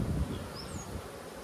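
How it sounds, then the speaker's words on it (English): Honey bees buzz faintly in a hive, a low steady hum with clusters of bees down among the frames, heard alone in a brief moment. "There's clusters of bees down there."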